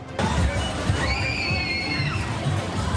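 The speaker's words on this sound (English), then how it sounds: "Crowds pack the Carp Fair on day 2 of the 152-year-old event" Crowd noise at the Carp Fair, a 152-year-old country fair in Eastern Ontario, steady and loud throughout with children shouting and scattered cheering over a dense babble of voices.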